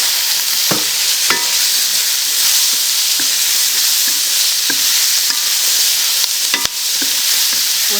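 Vegetables for kung pao chicken are stir-fried in a wok, making a loud, steady, close sizzle punctuated by sharp scrapes and clanks of the spatula against the metal.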